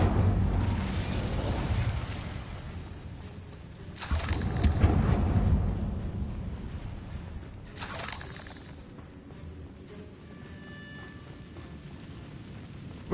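A fire spell cast in Hogwarts Legacy erupts in bursts of roaring, crackling flame, one large whoosh mid-way and another later, over ambient game sound with no talk.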